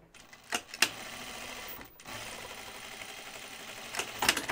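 Sewing machine restitching a French seam, a fairly quiet run of continuous motor hum framed by a few sharp clicks and taps near the start and end, with brief pauses between bursts.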